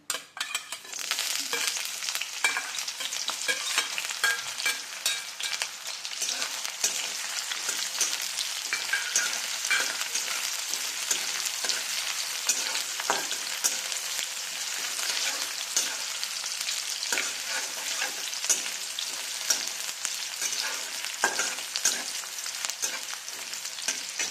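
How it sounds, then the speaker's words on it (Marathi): Finely chopped garlic and green chili fry in hot oil for a dill-leaf vegetable dish, a dense, steady sizzle with occasional stirring scrapes, close and continuous with no talking. "तेल गरम झालं की या गरम तेलात बारीक चिरलेली लसूण आणि मिरची टाकून घेऊ"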